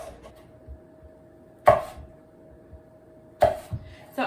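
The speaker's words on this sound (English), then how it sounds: "I'm just going to cut my apples. I'm going to cube them" A knife chops apples into cubes on a cutting board with three crisp, close knocks spaced well apart, plus a faint tap between them over a quiet kitchen background.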